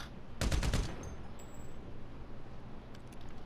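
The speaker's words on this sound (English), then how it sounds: "Do you hear that shooting?" Gunfire in Grand Theft Auto V, one short rapid burst of automatic shots heard distantly and faintly under game background noise, followed by quiet ambience.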